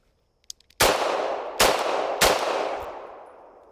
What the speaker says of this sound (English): 3 shots with the Beretta